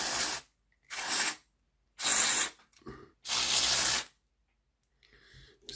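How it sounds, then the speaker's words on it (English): Contact cleaner is sprayed into a Hornby R2359 Black 5 model locomotive in four short, close, loud hissing bursts separated by silence, followed by a faint rattle. "And then I'll give it a good scoosh out with a contact cleaner."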